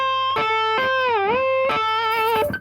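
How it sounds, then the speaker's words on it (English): Distorted electric guitar lead, played masterclass-style by a guitarist, with a string of hammered-on notes and a smooth whammy-bar dip that bends the pitch down and back up midway, loud and alone. "then another hammer on, and then again with the whammy bar"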